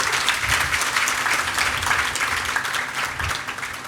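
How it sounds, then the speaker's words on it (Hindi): Steady, dense applause from a crowd at a spiritual satsang gathering, loud and continuous throughout with no voices standing out. "तालियां हो जाए।"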